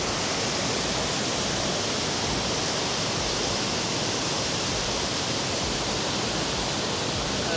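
A waterfall in Bosnia, about an hour's drive from Mostar, roars as a steady, loud, close wash of rushing water that fills the whole stretch without a break and with no voices.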